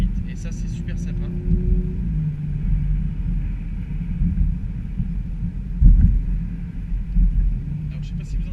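2018 Audi RS5 with biturbo engine and stock exhaust, heard from inside while driving as a steady low rumble with a brief louder surge near the end, under road and wind noise, with some talking.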